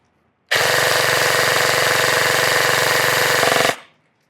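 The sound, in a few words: EMG Daniel Defense MK18 airsoft AEG firing full auto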